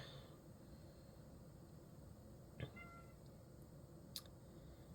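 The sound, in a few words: cat meowing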